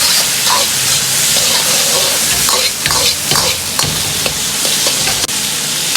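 Celery stir-fried in a hot wok as mushroom soy sauce is added, a loud, steady sizzle with repeated scraping and clanking of the spatula against the metal, close and continuous.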